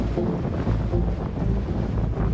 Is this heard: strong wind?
yes